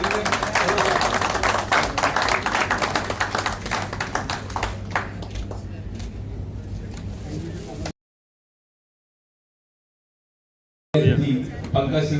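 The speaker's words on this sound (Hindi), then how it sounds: "तालियां बजा दीजिए।" Audience applause at a meeting with a special guest MLA in Noida: dense, steady clapping from a crowd that gradually thins, then breaks off into silence before a short burst resumes.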